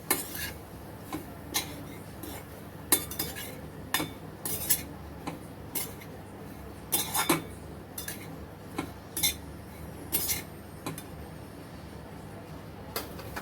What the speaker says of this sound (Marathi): खोबरं पण छान परतून घेऊया आपण